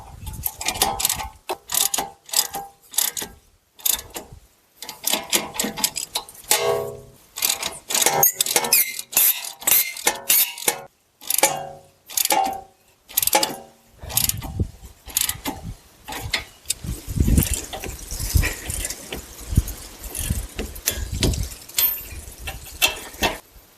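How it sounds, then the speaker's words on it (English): A ratchet tightening the transmission bolts on a Chrysler Town & Country with a 62TE transmission, to 65 foot-pounds plus 90 degrees. It gives rapid, repeated clicking bursts broken by short pauses, loud and close, with no talking. "Then we're going to tighten both of these bolts to 65 foot-pounds plus an additional 90 degrees."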